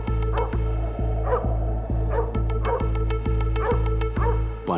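A dog barks repeatedly in a steady, insistent rhythm, loud and close, with a few yips mixed in, during a comedic Malayalam movie scene.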